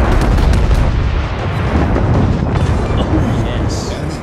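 Secondary guns on the Konig Albert battleship firing in World of Warships, heard as a loud, continuous rumbling barrage of booms and blasts with no break.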